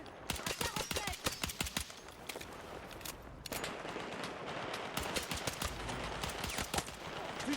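Automatic machine gun fire in the shooter game Battlefield 6: rapid bursts of sharp shots at the start, then dense sustained gunfire with continuous battle noise, loud and close.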